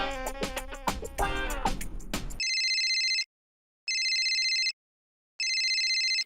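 A telephone rings in a comedy household scene, with three bright, identical electronic ring bursts separated by short silences, following a brief stretch of music.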